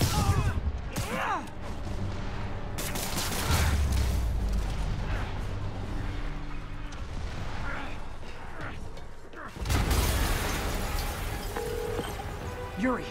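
Booming explosions and bursts of gunfire-like blasts from Marvel's Spider-Man Remastered rumble through a dense mix, with a loud burst near the end after a brief drop.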